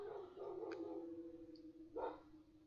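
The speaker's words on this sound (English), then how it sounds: "goddamn dog." A dog barks faintly a couple of times in the distance, short sharp yelps over a low steady hum and a quiet background tone.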